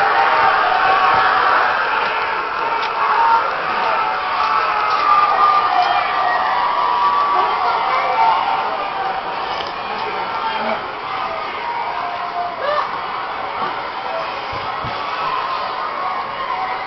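An arena crowd at a wrestling event cheers and shouts through a hardcore match, a dense roar that holds steady for most of the time and eases slightly later, with yelps and whoops rising from it.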